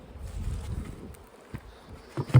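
Stray bees buzzing as they are moved from a hive into a small catch hive, a low diffuse hum with brief louder swells near the end.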